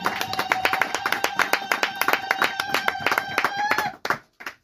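A church congregation claps hands in a quick, rhythmic unison beat, sharp regular claps over a sustained tone, slowing to a few scattered final claps at the end.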